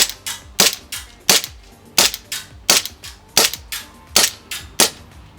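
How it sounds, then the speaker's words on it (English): An airsoft Beretta M9 blowback pistol fires BBs in a steady run of about fourteen sharp, loud snapping shots, each with a brief slide clack, spaced roughly evenly. "Well, then we have our Beretta M9. Still have some BBs left in there."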